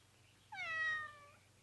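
A cat gives a single clear, drawn-out meow lasting about half a second, close and alone against a quiet background hum.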